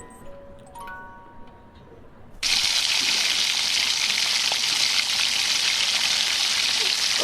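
Two or three crushed garlic cloves hit hot oil with nigella seeds, setting off a sudden loud sizzle after a quiet moment of faint ticking. The close, even hiss then continues steadily to the end.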